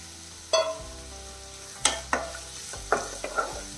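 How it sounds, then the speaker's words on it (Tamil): Two large onions fry in a pan, sizzling softly throughout while a spoon stirs them in a few sharp scraping strokes spaced across a few seconds, close and clear. "வெங்காயம் கொஞ்சம் வதங்கட்டும்"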